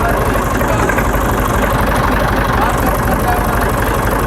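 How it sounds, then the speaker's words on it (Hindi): A tractor idles and rumbles steadily while reversing to hitch up a trolley, a constant loud low-pitched engine drone with no breaks. "ट्रैक्टर बैक हो रहा है।"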